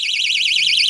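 An electronic bicycle bell beeper with flash light, switched to a new sound mode, emits a loud warbling siren-like electronic tone that wavers rapidly up and down without pause.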